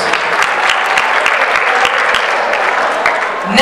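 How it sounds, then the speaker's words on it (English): An audience at a junior English debate event claps loudly and steadily in a dense burst of applause that carries on throughout, with the clapping swelling slightly at the very end. "Come on, audience, give a huge round of applause."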